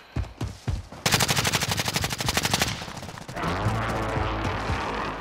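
Rapid automatic gunfire bursts loudly from an enemy sniper in a shooter video game, a dense rattling volley after a few single shots, then fading into a rumbling echo.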